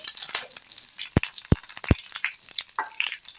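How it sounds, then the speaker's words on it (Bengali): Whole cumin, bay leaves, cinnamon pieces and green cardamom sizzle in hot oil for banana stem curry, a steady close crackle broken by a few sharp pops and light stirring, with no voices. "এই তেলেই আমি দেবো গোটা জিরে, 2টো তেজপাতা আর 2টো দারচিনির টুকরো, 2টো ছোটো এলাচ ফোড়ন দেবো।"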